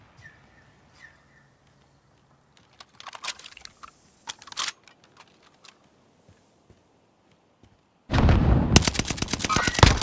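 Video game gunfire in a squad trios match: scattered single shots and short bursts first, then a loud sustained rattle of rapid automatic fire near the end, with faint keyboard and mouse clicks between.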